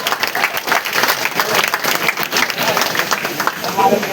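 Applause from an audience at a ceremony where insurance policies are handed over during a Govinda troupe T-shirt launch, a dense, loud, continuous clatter of clapping that runs throughout while a voice speaks over it.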